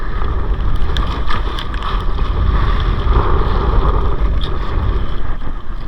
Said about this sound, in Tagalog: At ang hangin. Parang bagyo na to.